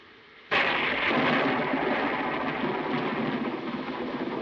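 Thunder during a thunderstorm: a sudden loud crack breaks in, then a long, broad rumbling roll that stays strong and slowly fades over several seconds, with no voices.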